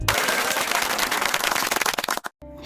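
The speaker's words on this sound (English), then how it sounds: "Let's give Chrome a round of applause" A dense burst of applause, with many hands clapping rapidly and steadily at close range, thinning into scattered claps before cutting off abruptly, then a brief faint tail of sound.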